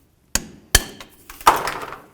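A hammer strikes a punch to break a seized brake hose fitting free on a 1988-2002 GMC Sierra 1500. Three sharp metallic blows ring out close up, spaced apart, with a brief rattle after the last one.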